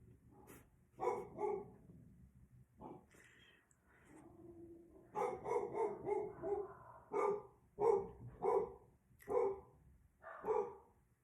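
A dog barks repeatedly in a home while a TV plays, with loud clustered barks in bursts, a short pause and then a steady run of sharp barks near the microphone.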